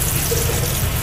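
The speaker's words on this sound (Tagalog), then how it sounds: "I-drain na po natin." Cooked rotini pasta draining into a kitchen sink, a steady, close rush of pouring water and liquid splashing with no break, loud and continuous.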